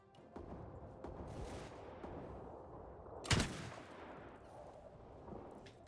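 Gunfire at enemies in Mount & Blade 2 Bannerlord with a samurai gun unit in Shokuho: scattered faint distant shots amid battle noise, then one sharp, louder crack close by.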